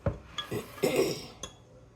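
Spoon stirring a doubled batch of milk soured with vinegar, a few close clinks and scrapes against the container in short separate bursts, with quiet pauses between.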